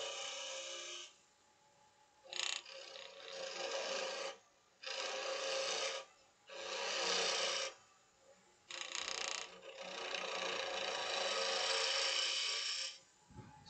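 Wood being cut on a lathe with a spindle gouge, a steady rasping scrape in bursts of a second or two separated by short pauses while the lathe hums.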